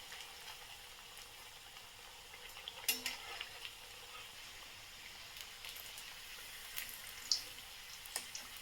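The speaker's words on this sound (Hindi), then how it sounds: "इसे उलट पलट के हम सुनहरा इसे तलेंगे।" A veg roll, Kolkata street food, fries golden in a pan over medium-high heat while being turned, giving a faint, steady sizzle with a few small clinks and stirring sounds.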